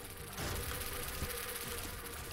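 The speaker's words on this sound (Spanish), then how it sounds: "La cantidad de moscas que invoca este bicho" A dense swarm of flies summoned by an enemy in The Binding of Isaac: Repentance drones and buzzes without a break, a loud, steady insect hum that fills the whole moment.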